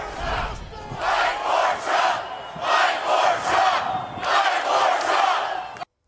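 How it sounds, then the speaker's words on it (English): A large crowd at a Trump rally chants in unison, loud rhythmic bursts of many voices repeating a short phrase in regular waves, then cutting off abruptly. "listen to this chant from the crowd at Trump's rally on Wednesday"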